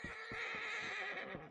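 A horse in the Red Dead Redemption 2 video game whinnies loudly and at length, with a high drawn-out neigh over faint hoofbeats and game ambience, and no talk.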